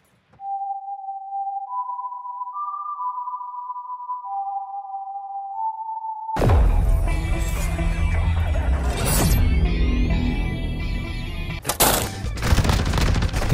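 A few seconds of quiet sustained electronic tones give way to loud, dense gunfire in Modern Warfare 2. Rapid shots and heavy crashing blasts overlap continuously, with sharper bursts near the end.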